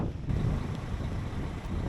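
Strong wind buffets the microphone at the southern tip of an island in southern Chile, a steady low rumbling roar, loud and continuous throughout, with no voices.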